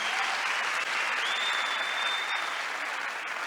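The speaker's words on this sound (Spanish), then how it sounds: "Dale un aplauso fuerte al Señor." Steady congregation applause fills a church service, a dense even wash of clapping with a faint crowd murmur throughout, holding level before easing slightly at the end.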